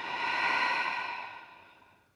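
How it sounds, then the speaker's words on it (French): A single long exhale during a Pilates exercise, a soft breathy rush that swells briefly and then fades away, close and alone. "j'inspire et j'expire."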